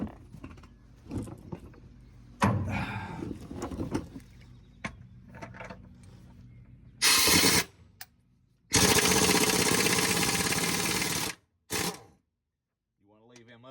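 Heavy impact wrench loosening main bearing cap bolts on an engine, loud hammering bursts of a few seconds each separated by pauses, with clanking handling noises between.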